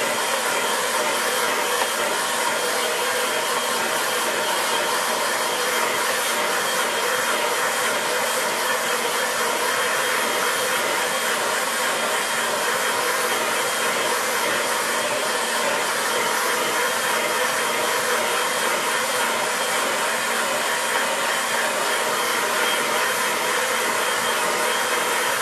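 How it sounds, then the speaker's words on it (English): A hair dryer blows steadily on a watercolour painting, a loud continuous broadband whoosh of air that holds unchanged from start to finish with no voices. "So I'm just going to grab the air dryer. And just give it a quick blast."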